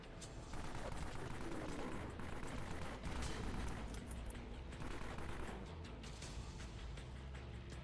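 Sustained automatic machine-gun fire in a looting shooter game, a continuous dense rattle of shots that runs moderately loud throughout.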